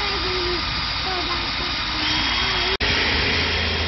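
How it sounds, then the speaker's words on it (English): A power drill whines steadily while drilling a hole, rising motor pitch, continuous and close, briefly cutting out near the end before resuming. "I'm going to drill the other hole."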